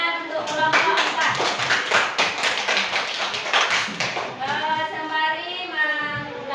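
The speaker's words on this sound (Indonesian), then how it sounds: "tepuk tangan untuk kelompok 4" Classroom applause for a student group, with a burst of hand clapping from children mixed with overlapping voices and cheering, loud and close throughout.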